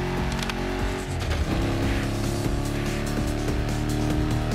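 A vintage car's engine drones loud and steady in The Crew Motorfest on a four-gear exploration cruise, with rising revs and gear changes and faint tire noise throughout and no talking.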